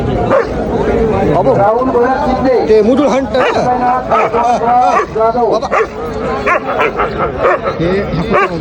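Puppy yips and barks come in quick bursts amid steady chatter and a busy crowd hubbub at the Malegaon fair.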